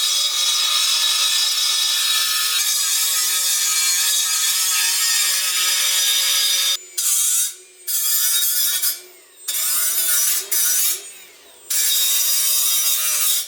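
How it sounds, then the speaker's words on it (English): A die grinder cleans up and enlarges a hole cut in a steel exhaust pipe on a turbo K24 Nissan Cefiro build, a loud continuous high-pitched whine for about seven seconds, then several short bursts with brief pauses between them. "We'll clean it up with the die grinder."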